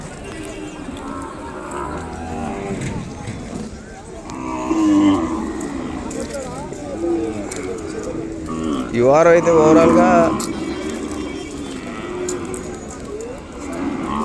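Ongole cattle and calves low and moo repeatedly at a busy livestock market, with deep calls rising over a steady crowd murmur while someone talks nearby.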